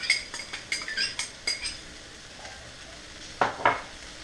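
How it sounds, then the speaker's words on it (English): A utensil scrapes and clinks against a pan while quinoa fries with soy sauce, a run of quick stirring strokes, a lull filled with soft sizzling, then two more scrapes. "you want to stir in all of the soy sauce into your quinoa"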